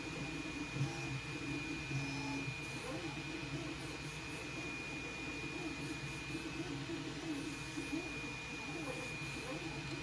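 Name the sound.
Elegoo Centauri Carbon 3D printer running after being switched on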